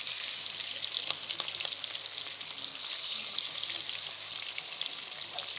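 Alexandrian-style liver pieces fry in very hot oil in a pan, giving an even, soft crackling sizzle that holds steady and close with no voices over it.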